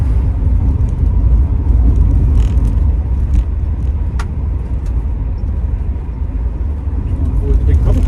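1971 Mercedes S class W108 280S automatic driving, a steady low engine and road rumble heard from inside the cabin, continuous and fairly loud with faint ticks and rattles above it.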